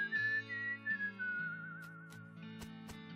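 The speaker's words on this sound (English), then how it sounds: "She's whistling the theme tune." A character in the video game West of Loathing whistles the theme tune, a clear wavering melody over steady game music, with a few soft clicks near the end.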